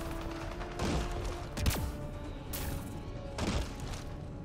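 Apex Legends gameplay brings several separate bursts of gunfire and explosive blasts, each a sharp crack or thump that decays quickly, spaced about a second apart over a low continuous game background.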